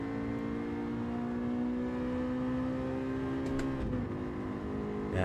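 Racing car engine in a sim-racing time trial game, holding a steady high whining rev with strong harmonic tones, then a brief dip near the end as it shifts up a gear; loud and continuous with no talk.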